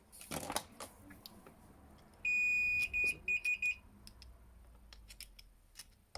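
Electrical continuity tester beeps against a three-phase asynchronous motor coil, a loud steady tone followed by several short repeated beeps, with faint handling clicks and brief speech around it.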